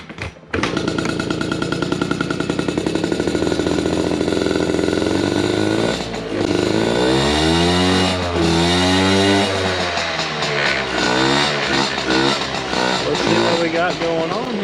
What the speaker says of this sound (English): we're gonna try to ride it again. Let's pump it up and give her a go.